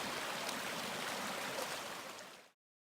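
Steady rushing of flowing stream water, broadband and continuous, fading out near the end.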